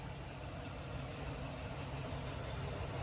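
A 2005 Chevy Silverado 2500 pickup engine idles roughly, a steady close, low rumble that holds even throughout with no voices over it.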